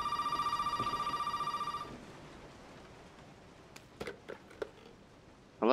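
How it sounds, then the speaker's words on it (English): An old-style telephone in the video game Resident Evil 7 rings loudly with a fast rattling bell for about two seconds, then stops, followed by quiet room tone and a few faint clicks and taps. "Phone's ringing."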